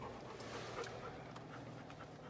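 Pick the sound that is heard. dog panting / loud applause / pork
dog panting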